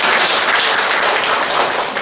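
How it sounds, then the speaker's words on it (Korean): A crowd at a parenting lecture applauds, producing brisk, continuous, loud clapping close by that fills the whole moment without voices. "서로를 박수 한번 쳐줘야 되는데"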